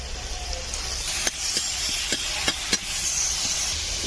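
Grated onion and green chillies frying in a pan, a constant hissing sizzle broken by a handful of sharp spatula scrapes and clinks.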